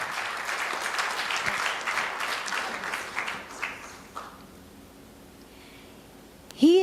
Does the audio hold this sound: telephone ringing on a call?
no